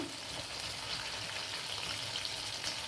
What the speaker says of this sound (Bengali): এবার আমি তেলে এগুলো দিয়ে দিচ্ছি একটা একটা করে